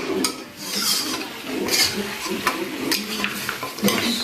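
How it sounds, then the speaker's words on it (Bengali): Bengali honey mutton curry stirred in a pan, with repeated scraping and clinking strokes of the spoon over a soft sizzle, close and steady, with no speech. "ভালো করে নাড়িয়ে নেওয়া হলো।"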